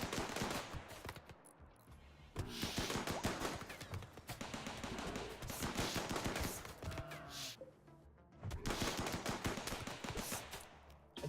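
Improvised turret pistol firing in the RimWorld colony game, a dense sequence of sharp gunshot cracks mixed with heavier bursts of combat noise, loud and continuous across the whole stretch with only brief dips.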